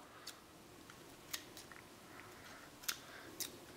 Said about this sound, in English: Cut the stem.